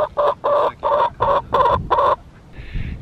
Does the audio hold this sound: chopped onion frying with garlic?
no